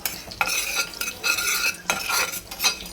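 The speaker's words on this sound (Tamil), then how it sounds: "இதை எண்ணெய் இல்லாமல் ட்ரை ரோஸ்ட் பண்ணி தனியாக எடுத்துக்கலாம்." Pepper, fennel, cumin and fenugreek dry roasting in a pan without oil, stirred in quick bursts of scraping and rattling seeds with brief gaps, close and dry-sounding, no voices.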